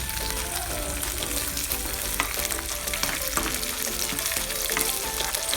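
Raisins fry in a pan for Pancharathna payasam, giving a constant, crackling sizzle with small stirring scrapes, close and alone without any talk.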